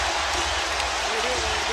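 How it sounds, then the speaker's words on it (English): A roaring basketball arena crowd at a Heat vs Cavaliers playoff game fills the space with a dense, steady wash of cheering noise, while a commentator speaks over it. "Listen to this crowd."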